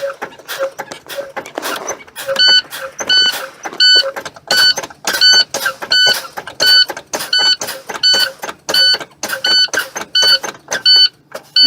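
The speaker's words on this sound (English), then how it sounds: "You hear that buzzer? That's my low air warning light and my low air buzzard." A truck's low air pressure warning buzzer beeps in a steady on-off rhythm over a running engine, loud and close, continuing throughout.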